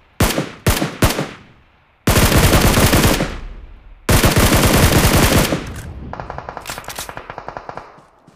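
Gunfire in the mobile battle royale game PUBG Mobile: a few sharp single shots, then two long, loud, close bursts of rapid automatic fire, followed by a quieter, steady string of distant rapid shots, with no talking.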